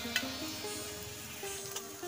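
Garlic frying in a pan for a tadka, a soft continuous sizzle with a few light clicks of stirring and a low steady hum underneath, fairly quiet.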